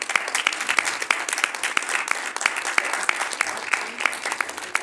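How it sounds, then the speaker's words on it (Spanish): A crowd claps steadily to welcome a speaker at a journalism event, a sustained mid-loud patter of many hands with distinct individual claps audible throughout. "Ahora recibamos con un fuerte aplauso a la doctora María Elena Hernández Ramírez"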